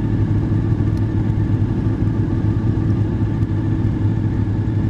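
Several motorcycles, including a GTR 1400 and a BMW GSA, setting off together from Eclipse Motorcycles in Scotland, with a steady, loud low engine rumble throughout and no talking.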